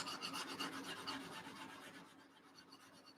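A fine-grit sanding board rubs back and forth over a seam on a 1/48 Tamiya Avro Lancaster model kit, a soft, close, raspy scratching in quick strokes that fades slightly toward the end.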